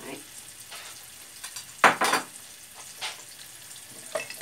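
Onions frying in a pot for lentil soup, a soft sizzle under sharp scrapes and knocks of a spoon stirring, fairly quiet and close.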